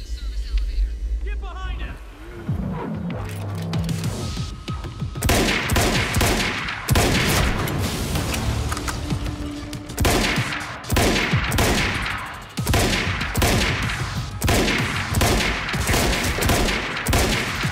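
Sustained bursts of automatic gunfire and explosions during a firefight in the video game Quantum Break, loud and dense across most of the stretch, with brief lulls between volleys and scattered voices underneath.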